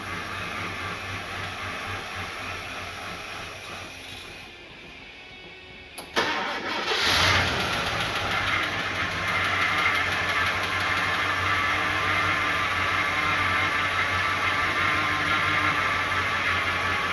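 A Ford Falcon Fairmont engine struggling to pick up fuel from the tank runs with a loud, steady drone. Midway it sags and drops off briefly, then surges back to a rough, continuous run.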